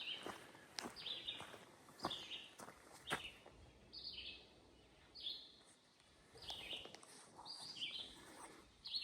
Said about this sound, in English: But I hear birds.